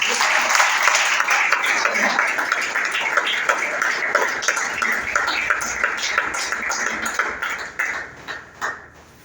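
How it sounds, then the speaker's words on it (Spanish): A church congregation applauds loudly with dense, sustained clapping that thins into scattered claps and fades near the end, with some voices underneath. "Denle fuerte la aplauso, Señor."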